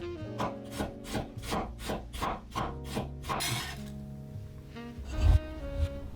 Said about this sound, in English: While the pasta cooks, finely chop the shallot.